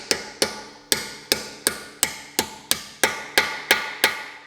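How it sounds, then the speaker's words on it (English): Metal hammer blows drive a 20 mm socket onto a swollen Ford lug nut: twelve sharp, evenly spaced ringing strikes, close and loud, with no talking. "And very carefully beat it on until you get it about that far on."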